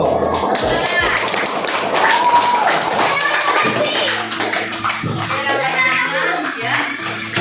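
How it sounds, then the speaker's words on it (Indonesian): Children clapping in a classroom during a lesson on basic artificial intelligence, a noisy burst of many small hands clapping mixed with children's chatter, followed by someone speaking. "oke, tepuk tangan dulu"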